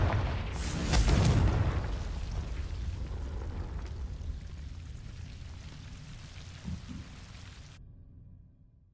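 In Hogwarts Legacy, the Confringo blasting spell sets off a loud, close explosion with a deep rumbling boom that slowly fades into crackling debris before cutting to silence.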